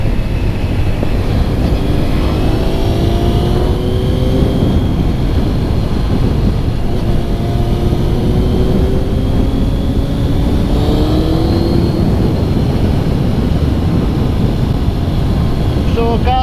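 A Suzuki Gixxer motorcycle engine hums steadily while riding, with rising and falling pitch sweeps as the rider shifts through revs, all under constant wind roar close to the mic.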